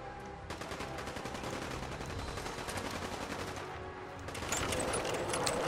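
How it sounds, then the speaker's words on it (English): Sustained gunfire in the Fallout 4 video game, a dense stream of rapid automatic bursts with cracking shots overlapping, loud and continuous, with a heavier flurry near the end. "I don't know what all of these guys are shooting at."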